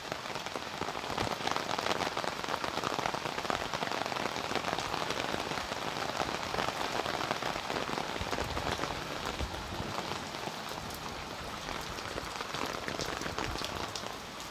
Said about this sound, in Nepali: असिनै असिना छ। असिना केही पग्लेर पानी भइसकेको छ